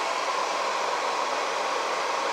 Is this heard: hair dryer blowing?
yes